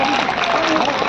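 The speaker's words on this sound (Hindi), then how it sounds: "एक बार उनके लिए तालियां बजाइए आप।" A crowd applauding together at an Independence Day celebration in Motijheel, Kanpur, making a dense, steady wash of claps that keeps going at an even level with no gaps.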